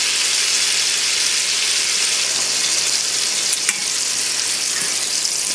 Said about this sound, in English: So we're gonna give them a good saute.